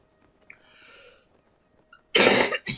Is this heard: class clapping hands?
no